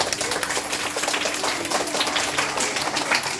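A school audience applauds after a magic show at Sripur Durlav Smriti Primary School. The clapping is a steady, dense crackle of many hands and stays even and unbroken from start to finish.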